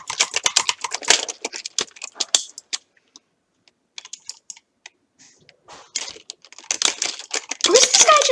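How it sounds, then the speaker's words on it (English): Rapid bursts of computer keyboard keystrokes during PvP gaming, clustered clicks and taps with a short pause mid-way, then a dense flurry at the end, close and crisp. "Just look at how I do things and look at my keystrokes and everything."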